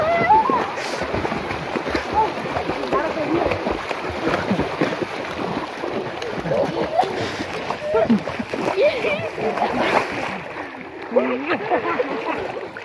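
People swimming in a stream, with irregular splashes and churning water close by while voices talk and call out over it.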